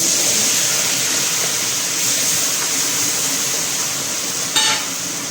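Mustard seeds, cumin, ginger and green chillies sizzle in hot oil for a radish-greens dish, making a loud, steady hiss throughout, with a brief sharp crackle near the end.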